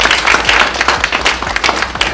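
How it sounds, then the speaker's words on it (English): Audience applause at a launch event, a dense burst of many hands clapping at close range, steady and loud for its whole length with no voices over it. "we all deserve a very big round of applause for agreeing"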